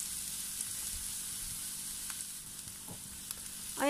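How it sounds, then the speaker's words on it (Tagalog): Onion sautés in hot oil in a pan, a faint, steady sizzle with a few light clicks and scrapes, ending in a brief louder tonal clatter. "igigisa muna natin ang ating sibuyas ng 1 minuto."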